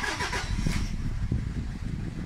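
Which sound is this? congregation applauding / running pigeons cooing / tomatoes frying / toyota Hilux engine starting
toyota Hilux engine starting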